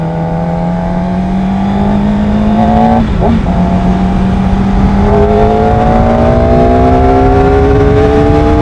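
A QJMOTO SRK450RR motorcycle rides on a road, its engine note loud and close and climbing steadily through the gears. There is one brief shift break. No one speaks.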